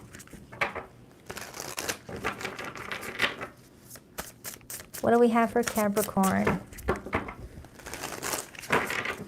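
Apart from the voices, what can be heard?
shuffling a tarot card deck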